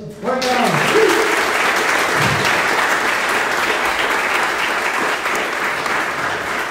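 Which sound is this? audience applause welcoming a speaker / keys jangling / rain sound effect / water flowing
audience applause welcoming a speaker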